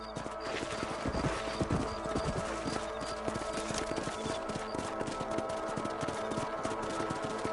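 Horse hooves clip-clop in a steady trotting rhythm in Red Dead Redemption, repeated sharp thuds close and clear over a constant low game ambience, with no talk.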